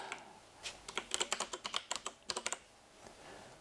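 A computer keyboard clicks in a rapid run of close, crisp keystrokes as an address is entered, with a short pause midway and a couple of trailing taps.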